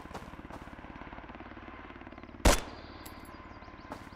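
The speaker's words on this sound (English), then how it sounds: "Oh, it's the chopper!" In the Road to Vostok video game, a helicopter's rotor throbs steadily in a rapid, even pulse. A single sharp, loud burst of gunfire cuts through midway, followed by a few fainter knocks.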